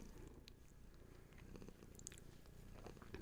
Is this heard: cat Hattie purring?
yes